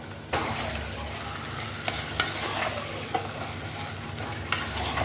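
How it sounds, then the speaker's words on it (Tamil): Steady sizzling and frying of chicken in biryani masala in a pan, with occasional scraping stirs of a spoon, continuous and close with no talking. "சிக்கன் வந்து நல்லா வந்து வதங்கட்டும்."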